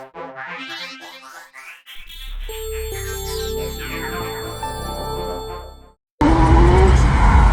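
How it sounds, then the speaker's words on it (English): A Ferrari F40 skids with squealing tires over a loud, rising engine roar that lasts several seconds, then cuts briefly to silence before a burst of harsh, noisy commotion. "how could the driver have prevented this skid, and how could they have recovered it once it started?"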